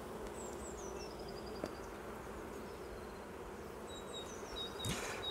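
A honey bee colony hums at an open hive during an April inspection, a steady dense buzz throughout with individual bees whining past close by.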